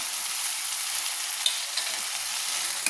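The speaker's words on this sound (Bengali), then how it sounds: "মশলাটা যতক্ষণ না কষানো হচ্ছে ততক্ষণ নেড়ে নিচ্ছি" Garlic paste masala sizzles in hot oil in a pan for a fish curry with cauliflower, a constant bright frying hiss with a couple of faint stirring clicks, close and steady.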